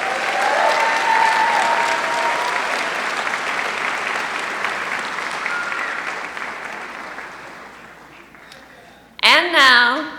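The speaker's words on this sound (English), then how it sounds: "Let's have a round of applause for the MA candidates." An audience applauds at a university sociology commencement ceremony, a dense, steady wash of clapping that slowly fades over several seconds before a voice speaks at the end.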